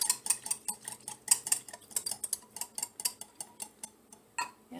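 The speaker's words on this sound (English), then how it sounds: "I'm going to give that a mix." A utensil mixing sauce for a frugal meal in a bowl, clinking and scraping against the sides in a steady rhythm of close, light metallic taps, with no voices.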